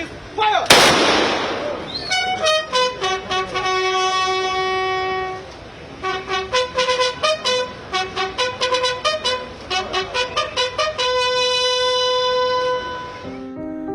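A single loud volley of police rifle fire at a state funeral salute cracks out near the start, followed by sustained, horn-like tones that rise and fall over the rest of the scene.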